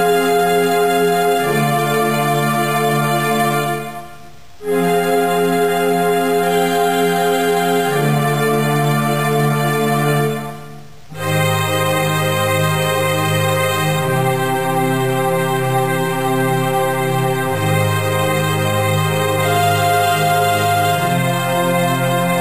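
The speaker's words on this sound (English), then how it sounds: "The first part I made with an instrument called strings too." A strings instrument patch plays a piece from Final Fantasy VII as a steady, loud sustained chord progression whose chords shift every few seconds, with two brief dips into near silence.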